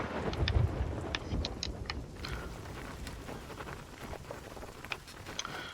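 A storm in Sea of Thieves brings steady rain with low rolling thunder and scattered sharp crackles and splashes, moderately loud at first and easing slightly, without talk.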